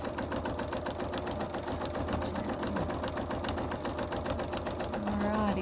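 A sewing machine stitches a quilt with a steady rapid mechanical rhythm that runs through the whole passage at moderate level, close by.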